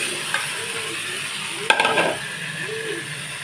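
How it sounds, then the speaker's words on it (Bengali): Fried chicken pieces stirred into hot spice masala in oil, giving a steady close sizzle with a sharp scrape and clatter of the spoon partway through. "এবার ভেজে রাখা চিকেনগুলো আমি মশলার মধ্যে দিয়ে দেবো।"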